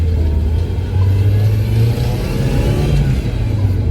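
A 1992 Mazda Miata with a suspected exhaust leak drones loudly from inside while driving, its engine note rising steadily under acceleration with a rough, noisy rumble.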